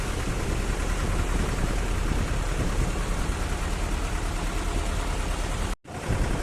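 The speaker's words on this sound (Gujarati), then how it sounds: "કાંઠામાં વરસાદ ચાલુ છે" Heavy rain and gusting wind roar across a seashore during a sudden storm on a fishing trip, a loud, unbroken wash that cuts out abruptly near the end.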